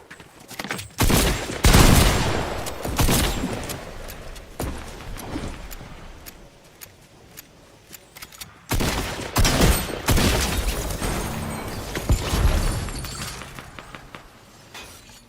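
Bursts of rapid gunfire and shattering impacts in a Fall Guys–style game, loud volleys in two main clusters with short pauses between, no talk.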